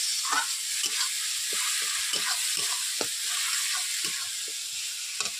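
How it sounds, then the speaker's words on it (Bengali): Spice paste for a fish head curry sizzles and fries in a pan, with a spoon or spatula scraping through it in an irregular rhythm of repeated stirring strokes over a continuous hiss. "মশলাটাকে আমি 2 থেকে 3 মিনিট ভালোভাবে কষিয়ে দিচ্ছি"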